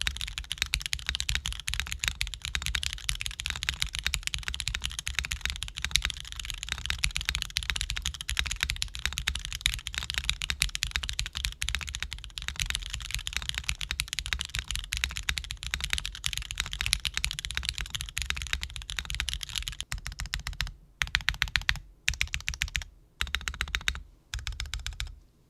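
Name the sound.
typing on a mechanical keyboard with MK Purple Slush linear switches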